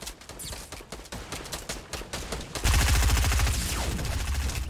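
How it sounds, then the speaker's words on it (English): Rapid automatic gunfire in a Fortnite battle royale match, dense bursts of shots growing louder and more continuous partway through, heavy and close. "Getting shot all over."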